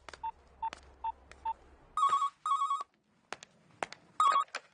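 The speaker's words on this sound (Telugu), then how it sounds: "ఒక్కసారి పోలీస్ స్టేషన్ కి ఫోన్ చేసి వెంగళరావు లైన్ లోకి తీసుకో." Telephone keypad tones beep in a quick series of four, then an electronic phone bell rings in three loud bursts, close and clear with no talking.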